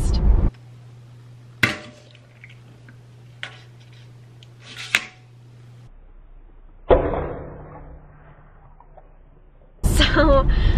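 Hard-boiled eggs cooked in an Instant Pot are cracked in a series of sharp, separate taps and knocks on a hard surface, each followed by brief crackling of shell, with quiet gaps between them.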